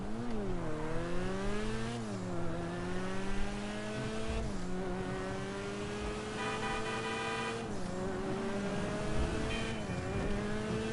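Off-road Vagrant car in GTA Online driving hard, its engine revving up and down in steady, harmonic-rich sweeps that stay loud and close throughout, with no talking over it.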